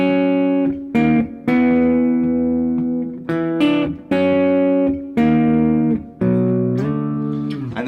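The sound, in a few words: guitar playing the intro riff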